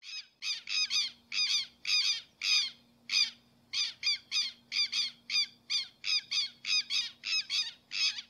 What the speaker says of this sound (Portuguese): Quero-quero.